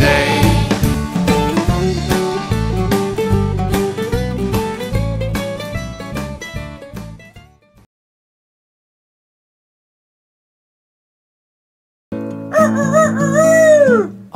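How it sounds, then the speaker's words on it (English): A rooster crows loudly and up close, a drawn-out wavering call heard alone after a gap of silence, while music plays at the start of the clip. "Cock-a-doodle-doo, said the rooster."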